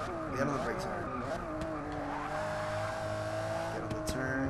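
Tires squeal under hard braking on a racing circuit in Forza Motorsport, a sustained screech over the steady drone of a Ferrari Enzo or LaFerrari engine, with someone talking over it.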